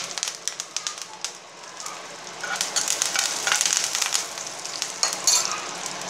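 Curry leaves crackle and sizzle in hot oil with dried chillies while sambar is being tempered, a steady broadband fry with sharp pops and bursts that gets louder partway through, close and alone.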